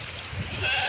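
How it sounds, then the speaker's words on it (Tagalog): A native goat gives one short, wavering bleat close by, with a faint hiss of outdoor background behind it. "Umiyak ng kambing."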